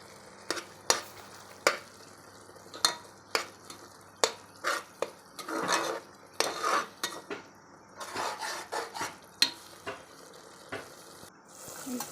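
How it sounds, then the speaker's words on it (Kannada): A spoon scrapes and clinks in a pan as garam masala and coriander powder fry for tomato bath, irregular sharp taps and stirring strokes over a soft sizzle, close and fairly quiet. "ಇವಾಗ ಇದಕ್ಕೆ ಗರಂ ಮಸಾಲ ಪುಡಿ ಮತ್ತು ಧನಿಯಾ ಪುಡಿ ಎರಡನ್ನೂ ಮಿಕ್ಸ್ ಮಾಡಿಕೊಂಡು ಅದನ್ನು ನೀಟಾಗಿ ಮಿಕ್ಸ್ ಮಾಡಬೇಕು"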